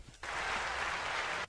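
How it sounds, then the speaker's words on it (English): A canned applause sound effect fires from a button during a podcast recording, a short uniform burst of crowd clapping that switches on abruptly, holds steady for just over a second, then cuts off. "That's my applause button."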